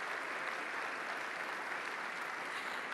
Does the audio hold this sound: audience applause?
yes